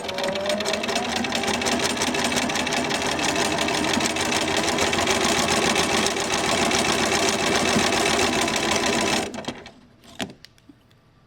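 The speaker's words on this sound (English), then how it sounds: "I'm gonna do a back stitch, and then I'm gonna go ahead and stitch forward." A sewing machine stitches forward along a mitered corner seam, a fast steady mechanical whir running loud and continuous for several seconds before stopping abruptly, followed by a few faint clicks.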